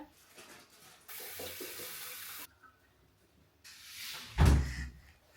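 Tap water running into a home sink during handwashing, a steady close splashing stream lasting about a second and a half, followed by quiet, a later surge of water and a heavy thump.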